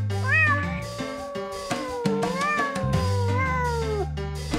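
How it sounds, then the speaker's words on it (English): A cartoon cat meows several times, a clear, drawn-out call with a rising and falling pitch, loud and close against a bright background music bed. "Cat."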